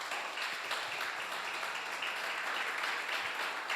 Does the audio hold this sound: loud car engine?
no